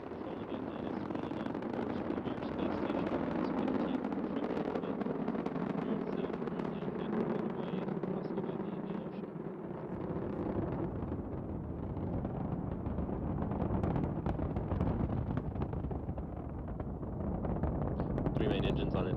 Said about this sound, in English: liftoff of Space Shuttle Atlantis with the Russian docking module